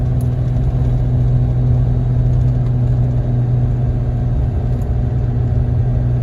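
A heavy vehicle engine drones steadily at high revs, a constant low rumble with no breaks, heard from inside the cab; a pickup truck with a 5R110 transmission downshifted into third at 3,500 RPM while towing a large fifth wheel.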